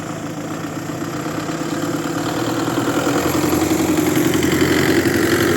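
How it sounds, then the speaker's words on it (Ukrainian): A tractor clearing snow in Truskavets, its engine chugging and growing gradually louder as it draws nearer, a steady mid-pitched rumble. "Трактор їде щось чистить нарешті."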